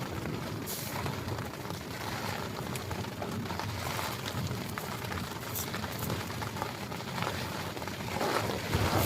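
Strong storm wind gusts across a high-altitude grassland campsite in Tibet, producing a continuous, loud, rough roar of buffeting air that swells slightly toward the end, with no voices.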